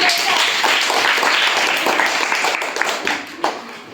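Schoolchildren at a village primary school quiz event clap for a contestant, a dense burst of applause that is loud at first and then thins out and fades.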